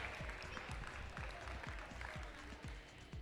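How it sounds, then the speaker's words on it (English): Applause from a middle school VIQRC robotics qualifier audience for the kids' performance, a steady wash of clapping running through the whole stretch with a few sharper individual claps over low rhythmic thumps in the background. "Give all of our kids a big round of applause for their awesome performance in qualifiers today."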